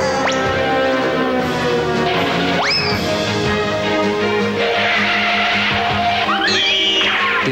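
Fiat Tempra Turbo car from 1993 accelerating hard, loud and close, its engine note climbing steadily through the gears with a sharp rising whine at each shift, continuous throughout.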